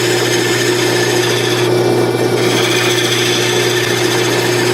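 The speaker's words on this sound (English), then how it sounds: "See how nicely those carbides cut?" Carbide tools cut a wooden chess pawn spinning on a wood lathe, making a loud, continuous scraping hiss over a steady motor hum. The cut eases briefly near the middle, and there is no talking.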